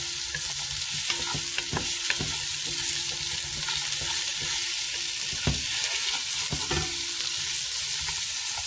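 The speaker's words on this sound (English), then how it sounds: "Then in goes my onions. So let it sweat a little bit until it's nice and soft and translucent." Chopped onions sweat in a hot pan for a shepherd's pie, giving a steady close sizzle throughout, broken by intermittent scrapes and clacks of a spoon stirring them.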